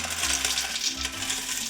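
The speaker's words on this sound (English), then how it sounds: "And then I'm going to add the pasta." Dry pasta is tipped into an Instant Pot, giving a close, continuous rattling clatter of hard pieces against metal and each other, with no one talking.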